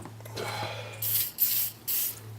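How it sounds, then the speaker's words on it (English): Spray cleaner misted onto the outside of a Glock pistol slide in three short hissing bursts, close and fairly loud, after some quieter handling noise. "I'll give it a spray on the outside too."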